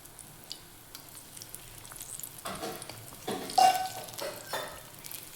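Egg bajji frying in oil in a kadai for an evening snack, a soft steady sizzle that swells into louder crackling bursts midway, with faint scraping from turning, no voices.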